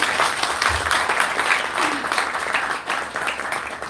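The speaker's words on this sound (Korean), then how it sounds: "큰 박수 주시기 바랍니다." Warm applause from forum attendees at an international forum on South Korean prisoners of war, many hands clapping steadily, swelling then tapering slightly, with a faint voice briefly beneath it.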